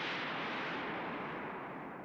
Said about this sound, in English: An explosion shook the air.